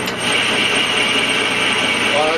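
A metal lathe takes a full cut across a live steam locomotive wheel during model construction, producing a steady, loud machining drone with a constant broadband hiss that runs without a break throughout.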